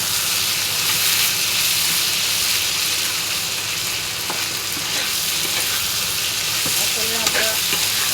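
Prawns, potato and chopped onion fry in a pan with a steady close sizzle, broken by occasional scrapes and clinks of stirring.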